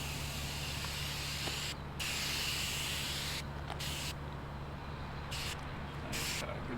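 Spray painting a coat of paint onto a part, a steady broadband hiss with brief pauses where the spray stops, close and continuous over a constant low hum.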